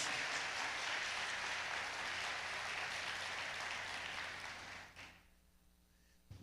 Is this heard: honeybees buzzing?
no